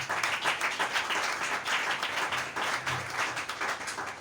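A church congregation applauding during a worship service, dense continuous clapping from many hands at moderate distance, rhythmic and sustained throughout.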